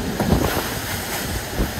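Rough seas churn and slap around a racing sailboat in the Vendée Globe, a loud continuous wash of surf mixed with buffeting wind against the microphone, with no voices.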